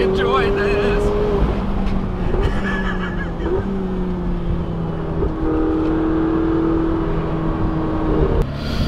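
Turbocharged Ferrari 488 supercar on a Pyrenees mountain road, engine tone rising and shifting through repeated acceleration runs under continuous wind and road noise, with a voice talking over it.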